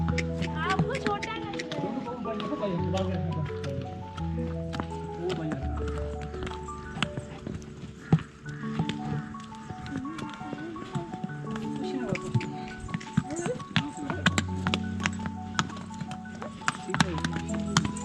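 A small pony walks along with irregular hoof clip-clops under near, continuous talking, while a prominent melodic music track plays throughout.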